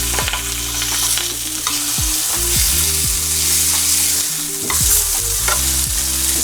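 Pieces of Alaskan salmon fry in a pan with a loud, steady sizzle, while a spatula scrapes and stirs in quick, repeated strokes close by; no talking.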